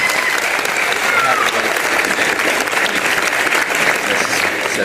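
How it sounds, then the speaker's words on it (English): A crowd at a community event applauds loudly and steadily, a dense wash of many hands clapping together without a break for about five seconds, with a faint murmur of voices underneath. "Everybody give them a big round of applause."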